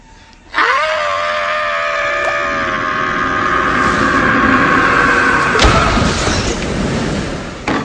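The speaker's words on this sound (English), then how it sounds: "Even his scream was embarrassing." A villain's drawn-out, wavering scream from The Legend of Zorro film, loud and sustained for several seconds over a dense movie soundtrack with a sharp crash near the end.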